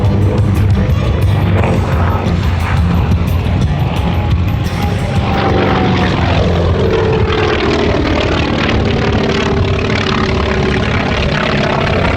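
A Grumman F4F Wildcat warbird flies at an airshow, its loud propeller engine roaring steadily throughout, with the pitch shifting slightly as it passes and faint crowd noise underneath.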